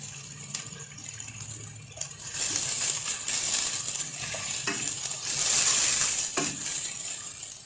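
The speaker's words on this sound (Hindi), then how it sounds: "तो इसको हम पका लेंगे ताकि टमाटर जो है वो नरम हो जाए पक कर।" Chicken handi with peeled tomatoes and crushed chillies cooking in a pan, a continuous close sizzle that swells louder in the second half, with a few clinks of utensils and no voices.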